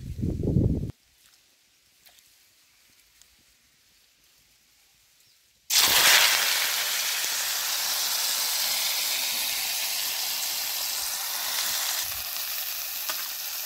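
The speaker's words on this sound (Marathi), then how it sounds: "आता तवा गरम झाला आहे जरा तेल ओतूयात" Oil sizzles loudly in a hot pan for an onion dish on a wood-fired chulha, bursting in after a brief opening sound and about five seconds of near silence, then hissing steadily and close until the end.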